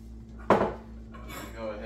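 A green bean casserole dish is pulled from the oven with one sharp clatter of metal against cookware, followed by softer scraping and rustling, close and fairly quiet.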